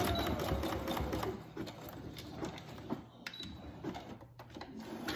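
Sewing machine stitching along the raw edge of a cloth face mask with string ties, a loud continuous rattling whir that slows and stutters briefly partway through.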